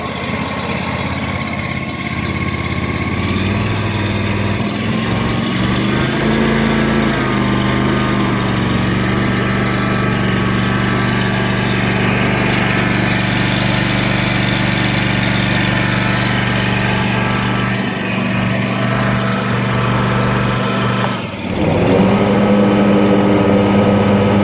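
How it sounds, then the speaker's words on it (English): The Kawasaki engine of a John Deere WHP36A walk-behind mower runs outdoors in the cold, a loud steady idle with a low droning hum, rising in speed around halfway, then a brief dip and throttle change near the end. "now I'll start it up, let you hear what it sounds like. It sounds like any other good Kawasaki."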